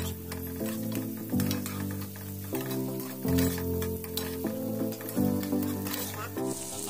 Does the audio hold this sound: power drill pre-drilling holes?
no